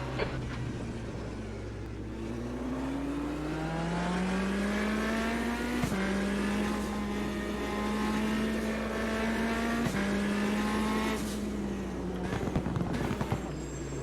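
A racing semi truck engine in the Automobilista sim racing game drones and rises through gears, with sharp shift breaks and steady acceleration, loud and continuous.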